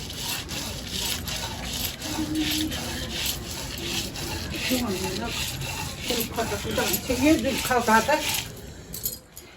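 Women grind rice by hand for a Garhwali ceremony in a native village, giving a steady, repetitive rubbing and scraping under their singing voices.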